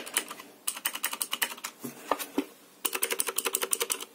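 Clicky keystrokes on a Motospeed CK61 mechanical keyboard come in two quick bursts of even, close, crisp presses, with a short pause broken by a few isolated taps between them.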